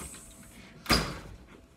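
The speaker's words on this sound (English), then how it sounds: "I forgot to shut the door." A house door swings closed with a single sharp, close knock that fades quickly, heard alone against a faint steady background hum.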